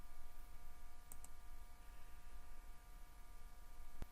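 A computer mouse gives a few sharp, quiet clicks, a quick pair and then a single click, over a faint steady electronic hum.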